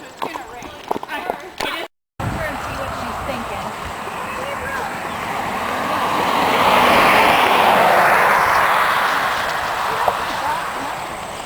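Hooves of a 2,000-pound Percheron horse ridden bareback on a trail in the southern Kettle Moraine State Park, a steady rustling plod under continuous outdoor wind and ambience, with talking at the start before a brief gap.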